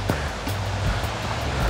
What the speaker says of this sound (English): Oh my God, look at the waterfall.